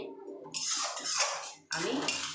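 A few scraping strokes of a metal spoon against a pan as a spice mix with a little water is stirred for soybean kosha, close and fairly quiet.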